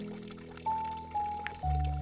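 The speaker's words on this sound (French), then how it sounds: "vous entendez le clapotis régulier d'une fontaine de bambou. Elle se remplit lentement" Water trickles into a Japanese bamboo fountain as it slowly fills, a soft, quiet pouring with rising tones that repeat in short steps, near and calm, with no voices.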